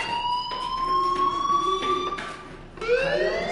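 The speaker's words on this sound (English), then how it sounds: "do you hear that fire alarm? That means you should be outside." A fire alarm wails in a rising and falling siren tone, loud and steady for several seconds with a brief dip near the end before it sweeps up again, and no one speaks.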